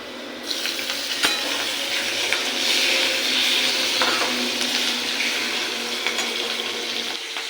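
Slit green chillies fry with browned potatoes in a pan, a loud, steady close sizzle with crackles and scattered stirring knocks throughout.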